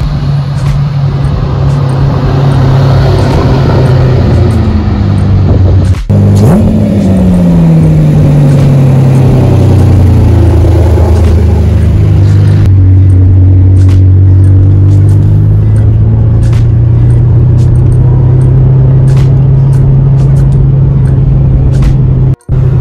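Onboard a black right-hand-drive Ferrari Testarossa in London: a loud, steady engine drone fills the cabin, rising and falling in pitch as the car accelerates and shifts, with road rumble underneath.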